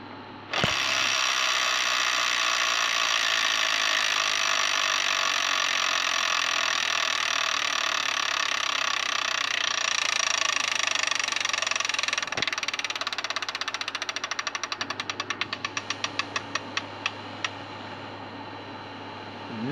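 A Wheel of Fortune Deluxe electronic tabletop game spins its wheel, giving a long steady mechanical whir. Near the end it breaks into a series of ratcheting clicks that space out as the wheel slows to a stop.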